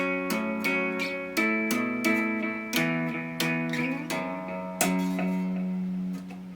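A slow electric guitar tapping riff in an odd meter: a steady run of plucked, ringing notes, each attack sharp and then sustaining, played alone at moderate volume.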